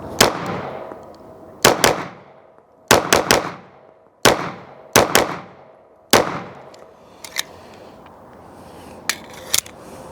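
Gunshots from a Prodigy pistol fitted with an Olight PL X weapon light, fired in sharp single and paired cracks that ring out and decay over about ten seconds, loud and close.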